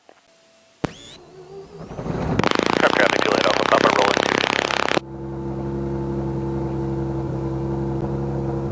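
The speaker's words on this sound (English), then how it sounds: "Okay, engine starts good." A Mazda rotary aircraft engine with a spark plug issue cranks, catches and roars loudly, then settles into a steady, buzzing idle; a brief radio voice comes through at the start.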